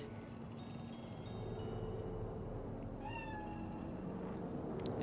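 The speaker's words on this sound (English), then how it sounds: "It's a cat like any other." A single short meow from a cat in the video game Cyberpunk rises clearly midway through a steady low ambient hum of game background sound.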